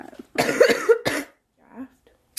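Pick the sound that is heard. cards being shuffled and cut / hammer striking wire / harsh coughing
harsh coughing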